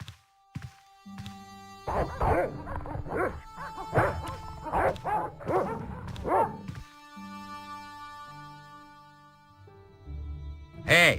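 Dogs barking in the Broken Sword video game, a burst of repeated yaps and woofs clustered over several seconds, fairly close and loud, with quieter game ambience before and after.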